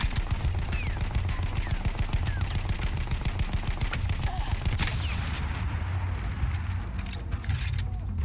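Gunfire in Battlefield 1, the video game: near-continuous rapid automatic fire rattles loudly throughout, with a dense battle din beneath and a sharp crack partway.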